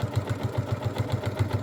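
A sewing machine runs stitch-in-the-ditch seams on an upcycled Boro-inspired blazer jacket, giving a fast, even mechanical chatter of regular close thumps with no voices.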